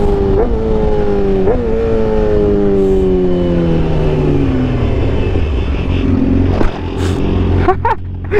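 A Yamaha R6 track bike on slicks ridden on the street: loud, close engine drone whose pitch sinks steadily as it decelerates, settling into a low rumble with wind noise and a brief throttle blip near the end.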